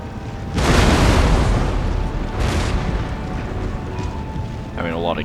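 Cannon fire from Empire Total War battering a fortress wall during a siege: deep booming blasts with a long rumbling roar, one large explosion early and another a couple of seconds later, loud and close.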